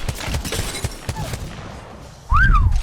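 A CAR SMG in Apex Legends fires in single-shot mode: a run of separate, evenly spaced cracks up close, followed by a louder burst with a whistling, swooping tone.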